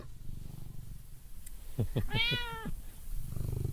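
A cat in a VRChat virtual world makes a short meow-like call with a purring rumble around it, heard close and fairly quiet against a low background hum.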